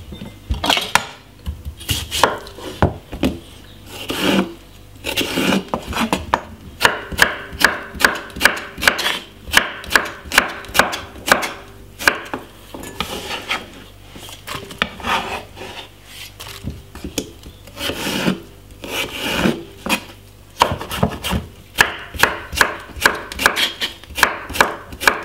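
Three medium cucumbers are chopped for a salad on a cutting board, loud close knife strikes coming in fast rhythmic bursts with short pauses between runs.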